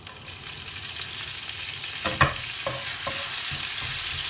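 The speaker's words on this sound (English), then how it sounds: "And now I'll put some curry leaves." Curry leaves dropped into hot oil, a steady close sizzle and crackle with a sharper burst near the middle and a few stirring scrapes afterward, no talking.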